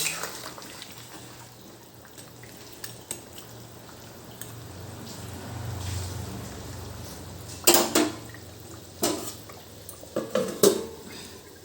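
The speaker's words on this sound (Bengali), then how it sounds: "এবার ঢেকে দেবো নাড়াচাড়া করে।" Fried fish stirred into a curry in a home kitchen, soft bubbling and simmering with a low hiss, followed by several sharp metallic clanks and scrapes of a spoon and lid on the pan.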